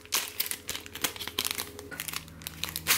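Close, crisp crinkling of a plastic packet being handled, a rapid series of rustles and crackles with brief pauses.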